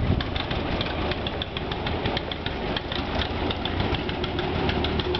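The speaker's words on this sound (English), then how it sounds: "Mr. J. Jim Munson working on the tractors, getting them all fired up with his lead mechanic." Tractor engines, including Massey Ferguson tractors, run with a steady knocking chug, fairly close and moderately loud, with no voices.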